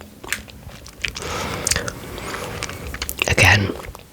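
Close-up biting and chewing of Tony's chocolate with crunchy nuts, with sharp crunchy snaps and wet mastication over several seconds, with soft whispering mixed in.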